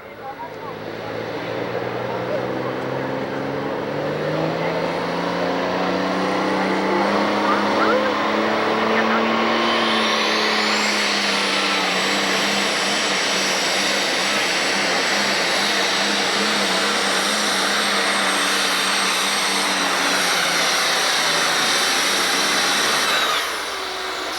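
A roaring International 3688 pulling tractor with four turbochargers makes a full pull at a 1996 Freeport, Illinois tractor pull, its engine note rising into a sustained high-pitched turbo whine and loud blare for over twenty seconds before cutting off.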